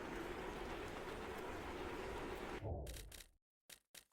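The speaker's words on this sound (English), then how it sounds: "Got a lot of trains going through this station." Trains rolling through a busy station in the railway-building game Sweet Transit make a dense, continuous rumble that cuts off abruptly, followed by a few short bursts and silences.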